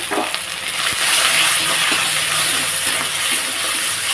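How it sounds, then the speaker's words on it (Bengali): Masala with salt, turmeric and green chilli frying in oil in a pan, a loud continuous sizzle with bright hiss and a few stirring knocks, steady throughout without any talking. "মশলাটা দেখো সুন্দর ভাজা ভাজা হয়ে এসছে"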